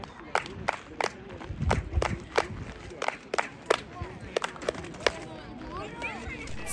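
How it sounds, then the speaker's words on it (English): Sharp hand claps echoing off the stone staircase of the Chichen Itza temple in Mexico, about a dozen spaced claps, each followed by a chirp-like echo, heard among a murmuring crowd of tourists with voices in the background. "If you clap, there will be an echo that you hear, which sounds like a bird chirping."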